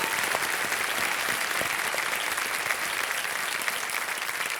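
A game-show studio audience welcomes a returning contestant with thick, continuous applause that stays loud and even from start to finish, a full room clapping together with no voices above it.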